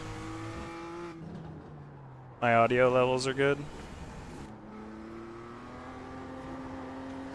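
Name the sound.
car engine revving while driving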